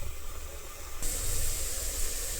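Gongura leaves and green chillies hit hot oil in a pan with a sudden, loud, steady hiss of frying that carries on without a break.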